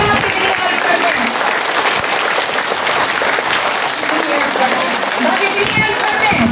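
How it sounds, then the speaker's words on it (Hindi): Children at a school Mother's Day assembly clapping loudly and continuously, a dense sustained burst of applause with voices mixed in. "तो फिर अपने लिए तालियां बजाइए अगर आप मम्मी की हेल्प करते हैं।"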